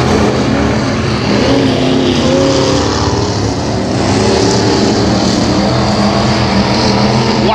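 Several race cars in a heat race at Thunder Valley Speedway in Glenmore, Louisiana roar continuously, their loud engine drone rising and falling as they circle the track, with no talk over it.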